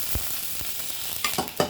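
Onions sautéing in a pan for a simple curry, a steady sizzle of frying with a few sharp scraping stirs of a spoon, close and alone with no talk.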